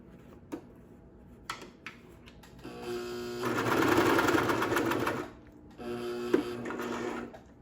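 A sewing machine runs in short bursts, then in a longer steady stretch, as elastic is stitched onto a child's face mask and the seam is sewn back and forth to reinforce it. It sounds close and is heard alone, without talk.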